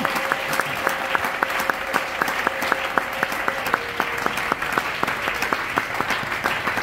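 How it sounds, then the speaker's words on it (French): A congregation at a morning prayer service claps in a steady, rhythmic unison beat, loud and sustained, with a faint held tone beneath the claps. "Tu peux bien acclamer la parole"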